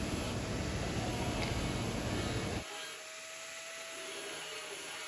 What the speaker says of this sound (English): So I've let Tony loose with the grinder.